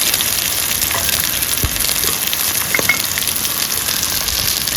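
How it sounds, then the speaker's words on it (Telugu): Pieces of boti, goat tripe, fry in a pan for curry: a steady, close, crackling sizzle with a few brief stirring knocks and no voices. "వీటిని కొంచెం మెత్తగా అయ్యే వరకు వేయించుకుందాము."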